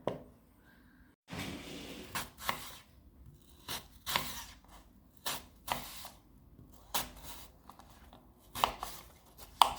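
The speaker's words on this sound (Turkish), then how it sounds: "Elmamı ortadan ikiye bölüyorum şu şekilde" A knife slices an apple in half on a board, giving a series of sharp cutting and tapping strokes spaced out over several seconds, close and fairly quiet, with no talk.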